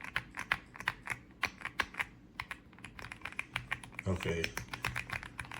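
Rapid keystrokes on an AULA F75 75% mechanical keyboard patter in quick, uneven bursts, soft and close with a muted, creamy thock, as a voice briefly speaks over the typing.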